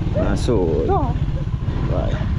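A motorcycle engine drones in a steady low rumble throughout, with people chatting over it outdoors.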